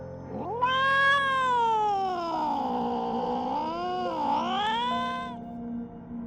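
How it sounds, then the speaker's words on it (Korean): A large black cat lets out a loud, close caterwauling screech, one long yowl sliding up and down in pitch for about five seconds, used as a horror-story sound effect. "고양이 역시 외마디 비명을 지르며 어둠 속으로 사라졌다고 하더군요."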